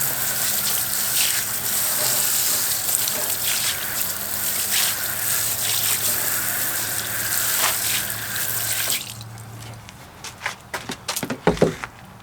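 A car wheel being rinsed with a steady gushing water spray, loud and continuous for about nine seconds before cutting off, followed by a few scattered knocks and footsteps.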